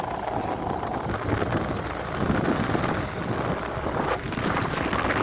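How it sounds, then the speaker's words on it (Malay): A fishing boat engine drones steadily while leaving harbour, beneath heavy wind buffeting the microphone, a continuous low rumble with gusty noise over it. "bot yang sedang keluar daripada muka pelabuhan"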